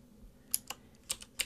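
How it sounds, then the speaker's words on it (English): Keys clack on a computer keyboard while a command is typed on a Mac, a handful of sharp, separate taps close by in an uneven rhythm over a quiet background. "I'll type in"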